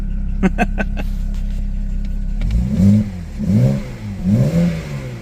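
A 2007 BMW 335xi engine idles low and steady, then revs up several times in rising, falling surges, fairly close and loud with no talking.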